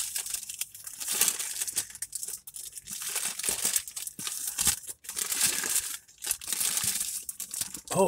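A Burger King Bacon King wrapper is unwrapped close by, making continuous crinkling and crumpling paper rustles with sharper tearing bursts scattered throughout.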